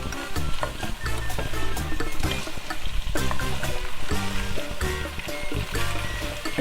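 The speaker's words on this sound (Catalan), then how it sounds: "I ara també les patates les barregem ben bé aquí." Potatoes sizzle and crackle in a hot pan alongside cuttlefish as they are stirred, with a loud, close, continuous frying hiss broken by scraping and clattering strokes.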